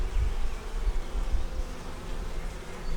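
A low, steady buzz of many honeybees close by in a hive, humming continuously with slight swells in loudness.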